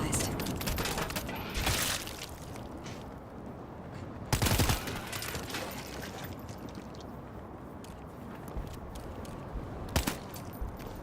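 Bursts of gunfire ring out in the World War Z video game, set in New York, with sharp shots at intervals amid a busy rumbling background.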